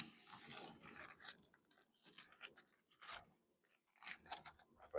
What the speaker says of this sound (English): I'm gonna just wrap that over. I'm gonna fold that up.